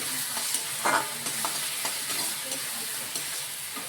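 Spice paste sizzles in a hot wok for a Bengali crab curry, giving a steady close frying hiss with a few brief stirring scrapes and no voices.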